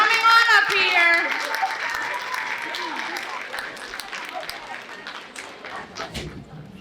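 Clapping from a school contest audience rises at an oratorical event while a voice speaks over the start; the applause continues at moderate level and thins toward the end, with scattered crowd noise.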